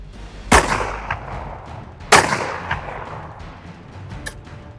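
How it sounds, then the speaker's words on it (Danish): Two loud, sharp gunshots from a heavy hunting rifle of caliber 6T fired without a silencer, spaced about a second and a half apart, each with a rolling echo, followed by fainter distant cracks. "blev skuddet affyret fra en riffel af kaliber 6T"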